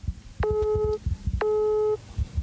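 Telephone busy signal: two evenly spaced tone beeps, each about half a second long, repeating clearly over faint background noise.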